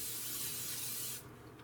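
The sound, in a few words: cooking spray sprayed onto baking dish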